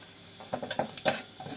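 Kaffir lime leaves drop into hot coconut cream in a pan, giving soft bubbling patters and a few light stirring scrapes, close and quiet.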